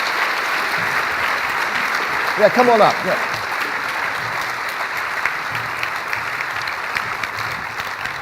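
Audience applause fills a conference hall after a film screening, a steady wash of clapping that holds throughout while someone speaks over it.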